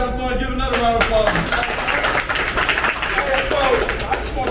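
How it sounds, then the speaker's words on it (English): Kids at a sports camp give a round of applause, with a rough wash of clapping mixed with excited shouts and cheering voices throughout. "if you've been having fun, give another round of applause"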